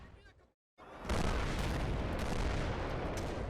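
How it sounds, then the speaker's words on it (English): Grenade explosion in the video game Combat Mission: Black Sea, a brief hush then a sudden loud boom that rolls into a long, heavy rumble of debris and reverberation. "That was a grenade. It wasn't even an AT4."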